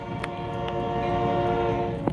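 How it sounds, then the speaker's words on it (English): A small train engine passes by outdoors as a steady rumbling drone with a faint horn-like tone and a few sharp clicks, moderately distant and with no talking over it. "we'll get to see a little bitty train engine, but it surprised us"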